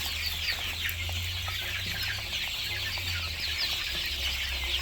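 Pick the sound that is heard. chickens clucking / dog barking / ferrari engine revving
chickens clucking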